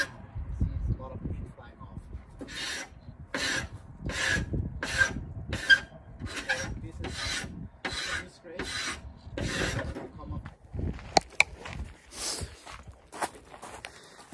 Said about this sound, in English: you scrape paint